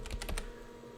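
Several quick keystrokes on an Amiga computer keyboard, clustered in the first half second, close and clear, then quiet hum.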